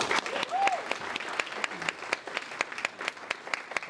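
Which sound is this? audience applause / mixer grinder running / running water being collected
audience applause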